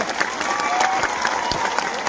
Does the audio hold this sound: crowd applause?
yes